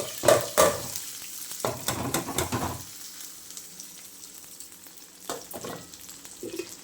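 Small square potato pieces dropped into hot oil, sharp loud bursts of sizzling and stirring for a few seconds, then a quieter steady fry with a couple more brief stirs near the end.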